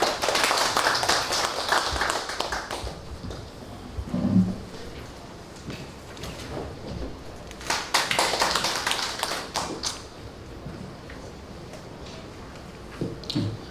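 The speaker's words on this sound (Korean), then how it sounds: "큰 박수로 맞으시죠." Scattered clapping from a seminar audience at a Korean food and drug safety forum as the next presenter is welcomed. It comes in two short, moderately loud bursts with quieter gaps between them.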